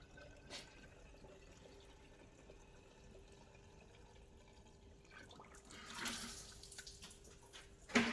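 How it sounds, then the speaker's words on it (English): Clean water poured into the cooling system of an Alfa Romeo Brera during a coolant leak repair, a faint, quiet trickle with a stronger splashing gush near the end. "Now we want to pop some water into it."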